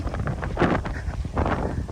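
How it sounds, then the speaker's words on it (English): Gusty wind buffets the microphone on a canyon hiking trail to a waterfall, low rumbling bursts that rise and fall over a couple of seconds, with no talking. "Oh, it's windy. It's not hot, it's windy today."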